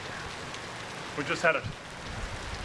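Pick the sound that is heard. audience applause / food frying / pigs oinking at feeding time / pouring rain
pouring rain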